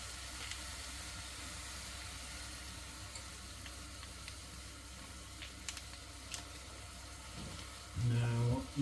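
Soy sauce hitting a pan of greens for soy butter greens, a low steady sizzle that swells suddenly into a loud burst of frying near the end, heard with no talking.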